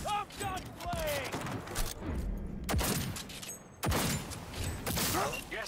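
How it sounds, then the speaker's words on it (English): Close-range gunfire in the Cyberpunk 2077 video game, with a few sharp broadband shots standing out from a busy bed of mechanical clatter and game noise, plus a brief lull in between. "Firing at close range"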